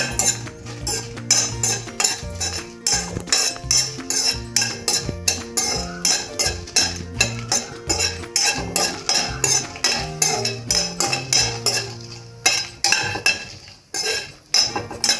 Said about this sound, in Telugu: మనం ఇందులోనే మళ్ళీ తీసాక కాకరకాయ ముక్కలు కూడా వేపించేసుకుందామండి